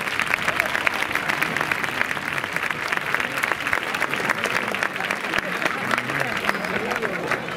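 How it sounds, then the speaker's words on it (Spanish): Steady, dense applause from a crowd at a ring-catching recortadores contest in Mendavia, greeting a competing pair. It fills the whole stretch at even strength without pause, with faint crowd murmur mixed in underneath. "por favor, un fuerte el aplauso para ellos"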